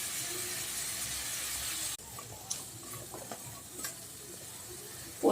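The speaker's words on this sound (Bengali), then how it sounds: "এগুলো একটু তেলে একটু নেড়ে দিলাম" Potatoes for aloo posto sizzle in hot oil as they are stirred, with a soft, steady frying hiss broken by light scraping and stirring clinks.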